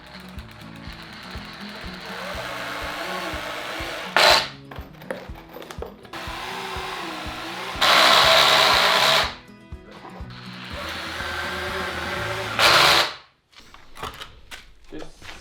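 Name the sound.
power tool driving fat screws into goat and chicken enclosure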